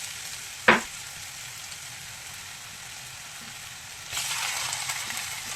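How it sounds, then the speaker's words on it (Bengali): Chicken pieces hit a pan of fried onions with a sharp splash, then a soft steady sizzle that swells louder as frying picks up, with no talking. "এবার আমি এর মধ্যে চিকেনগুলো দিয়ে দেবো।"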